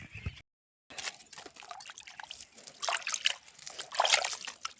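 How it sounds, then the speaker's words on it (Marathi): Water spills and trickles in a rural village home, with pouring and splashing bursts that grow louder toward the end after a brief silent gap. "छोट्या बेबीने पाणी सांडून दिलं."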